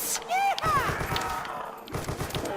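The Peacemaker gun fires rapid repeated shots in Call of Duty: World at War zombies on a custom map. The bursts are loud and close, with a voice talking in the background.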